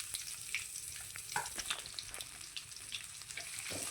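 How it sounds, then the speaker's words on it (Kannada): Chopped onions and curry leaves fry in oil for mutton sukka, giving a soft, continuous sizzle. Occasional clicks and scrapes of stirring sound up close at a fairly low volume. "ಈಗ ಕಟ್ ಮಾಡಿದಂಥ ಈರುಳ್ಳಿನ ಹಾಕ್ಕೊಳ್ಳುವ"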